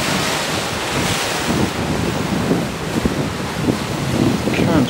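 Ocean water surges against rocks out at sea, a loud continuous wash of surf with strong wind buffeting the microphone and occasional heavier splashes throughout.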